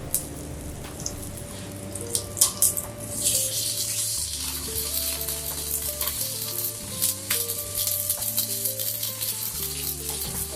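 Scrambled eggs frying in a pan, an even sizzle and scattered crackles with a few clattering knocks early on, all under steady background music, with no voices.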